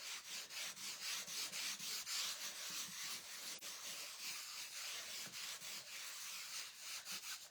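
A cloth rubs a thin layer of wax off foil in quick, rhythmic back-and-forth strokes, close and fairly quiet, continuing evenly throughout.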